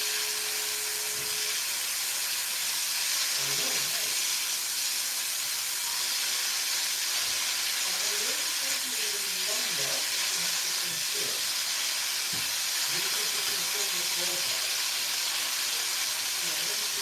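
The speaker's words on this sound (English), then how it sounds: "So we let it sear again." Small rabbit ribs searing in a pan, a steady bright sizzle and hiss filling the whole stretch, with faint clinks and stirring sounds beneath and occasional quiet voice in the background.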